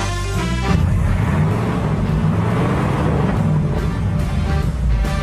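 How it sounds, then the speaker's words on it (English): A Cadillac 331 cubic inch V8 rumbles loud and close, with a low, rich, steady idle and a brief rise in revs near the start, alone without talk. "Under the hood was the Cadillac 331 cubic inch V8"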